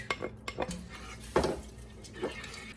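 Soaked rice stirred in a pot for rice pudding, heard as close utensil scrapes and clinks against the pot, a few quick strokes then a louder scrape, with faint background noise.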